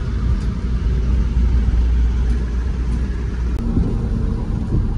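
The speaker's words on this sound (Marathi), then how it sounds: "बघा आली गाडी, बघा ही गाडी आहे" A car on a highway near the Vadodara exit, heard as a steady, loud engine and road rumble that runs throughout without a break.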